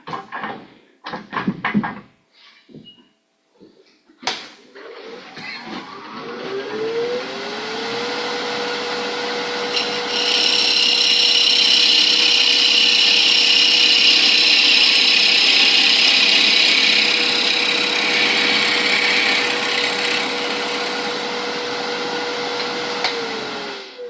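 A wood lathe at a woodturners' meeting: a few knocks, then the motor spins up into a loud steady whine, with a harsher scraping rush as the tool trims the spinning wood, then it eases slightly near the end.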